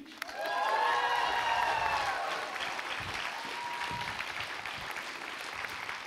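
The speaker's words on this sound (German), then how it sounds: "einen 10-Punkte-Applaus für mein Thema, die gemeinsame Agrarpolitik." Audience applause at a German talk on reform of the EU Common Agricultural Policy, a sustained wash of clapping with some cheering and whistles near the start, steady for about six seconds.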